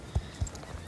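Horse hooves clip-clop at a horse market in a video game, four soft, evenly spaced thuds in a brief, steady walking rhythm.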